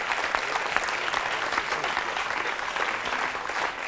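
A French television studio audience applauds on the set of a talk show, a full, bright burst of clapping sustained strongly for several seconds without speech on top.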